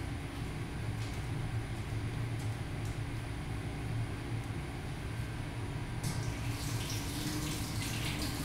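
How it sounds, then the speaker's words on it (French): A tap runs steadily into a sink as hands are rinsed clear of soap. It gives a constant close rush of water with no talk, and a brighter splashing comes in near the end. "Par la suite, elle doit se rincer adéquatement afin d'éliminer toute trace de savon."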